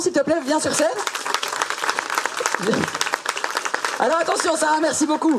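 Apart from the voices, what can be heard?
audience applause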